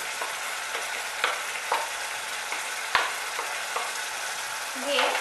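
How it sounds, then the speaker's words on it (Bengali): Ground turmeric, chili and coriander powder frying in oil in a pan, a constant close hiss with a few sharp scrapes of stirring and a brief higher squeak near the end. "দিয়ে মশলাটাকে এবার ভালো করে কষে নেব।"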